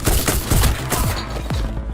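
Rapid gunfire from a homemade nail gun in a prison fight scene of a film, a dense fusillade of sharp bursts and thuds filling the whole stretch, loud and close.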